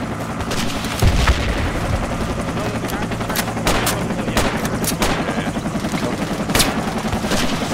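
Rapid bursts of gunfire in the video game Project Reality crackle continuously with occasional heavier booms, a dense, busy firefight close by and steady throughout.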